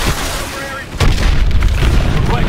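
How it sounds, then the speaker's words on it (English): Missile strikes in Call of Duty: Advanced Warfare during a fighter jet attack on hard points at a hydroelectric dam, heard as a loud booming burst that swells and rumbles on, with radio voices talking over the blast. "Lock onto those hard points and hit them with your missiles."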